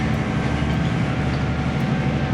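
Steady interior rumble of a train running on Japan's rural Geibi Line, a continuous loud, low drone with a faint hum and no clear track clicks, heard alone.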